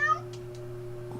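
A house cat gives one short meow at the start, close to the microphone, then only a faint steady hum remains.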